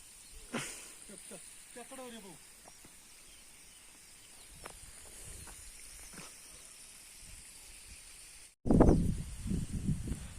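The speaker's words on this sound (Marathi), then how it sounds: "रेन पाईप सिस्टीम बघा कशी" A rain pipe sprinkler system hisses as it sprays water over onion seedlings in a field, a soft steady spray with faint bird calls, before a person starts talking loudly nearby.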